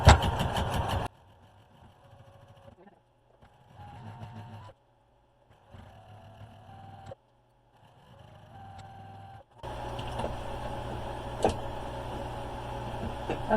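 A sewing machine chain-pieces quilt fabric in three short motor runs, each a steady mid-pitched whir with brief quiet gaps between them. Louder broadband noise opens and closes the stretch.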